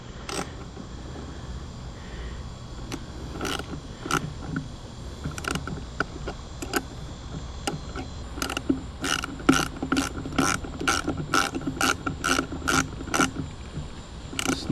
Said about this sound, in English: Grab your wrench. Again, socket on the bottom,